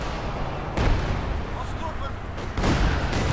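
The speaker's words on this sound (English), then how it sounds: "Mortars going down." Mortar impacts and gunfire in Company of Heroes 2 during a one-on-one battle, with dense, continuous rumbling blasts and crackling shots and two heavier booms that swell the din, while a commentator talks over them.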